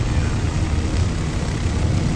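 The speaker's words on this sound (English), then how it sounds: "This helicopter is a lot more quiet when you're inside it." Steady, muffled helicopter engine drone heard from inside the cabin in the video game Arma 3, a constant low rumble with no voices.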